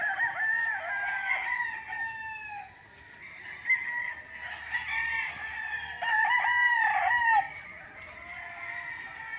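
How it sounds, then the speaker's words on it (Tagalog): Several gamecock roosters crow in overlapping, drawn-out calls while breeding hens cluck nearby on a farm lot in Pagsanjan, Laguna, steady farmyard noise with no talking. "Ito yung mga inahin, mga pinapalahian mga kapraps ng panabong ng mga manok dito."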